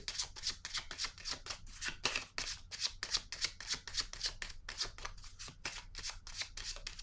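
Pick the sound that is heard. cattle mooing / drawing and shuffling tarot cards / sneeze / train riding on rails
drawing and shuffling tarot cards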